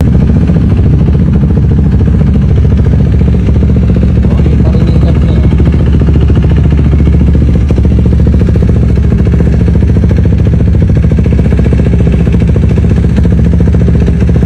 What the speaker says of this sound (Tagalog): ganito naman yung tunog ng kanyang tambucho kapag papaanda rin natin ito